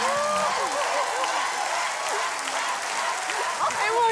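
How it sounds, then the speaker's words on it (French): Continuous applause from a studio audience on a French television music show, a dense even roar of clapping with excited voices and cheers rising through it. "Tonnerre d'applaudissements"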